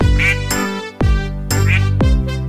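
Four loud, close quacks in a rhythmic sequence, a voice imitating a duck in sing-song fashion in the nursery rhyme Five Little Ducks.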